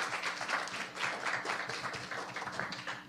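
An audience at an academic research and extension conference session applauds, a dense burst of clapping at moderate volume lasting a few seconds.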